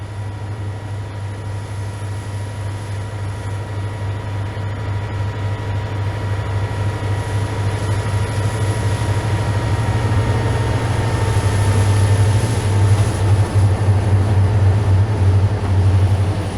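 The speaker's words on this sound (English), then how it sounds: "Here we leave the train at Old Fort as it continues east to Catawba" Coal train rolling east out of Old Fort toward Catawba, a steady low locomotive drone and rumble of rail cars that slowly builds louder over the whole stretch, with no talk.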